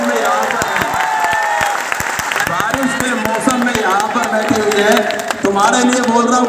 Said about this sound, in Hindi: एक बार भाई जोरदार तालियां इनके लिए बजाओ